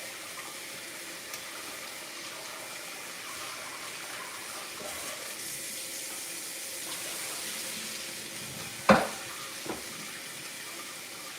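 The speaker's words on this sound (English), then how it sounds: "I'm going to run some cold water through it." Cold tap water pours steadily over cooked food in a kitchen strainer, a constant, moderate hiss with one sharp clunk near the end.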